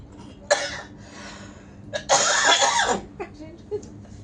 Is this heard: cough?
yes